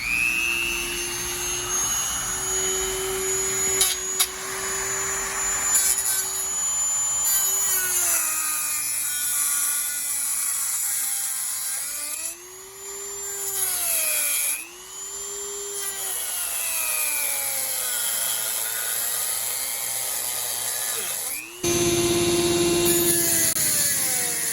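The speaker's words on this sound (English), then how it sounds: "tool is a Dremel, and just work our way slowly through the" Dremel rotary tool grinding slowly through the metal of a cracked truck frame near the steering box, a steady high whine that dips in pitch as the cutting wheel loads, then recovers, close and continuous with no voices.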